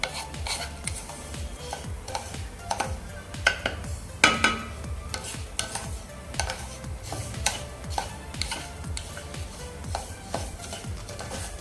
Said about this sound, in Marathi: तांबूस रंग येईपर्यंत आपल्याला हा लापशी रवा भाजून घ्यायचा आहे